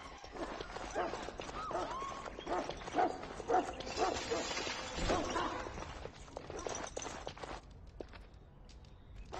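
In the Dragon Age: Origins video game, a dog barks in repeated sharp bursts amid clattering footsteps and background game ambience, moderately quiet overall.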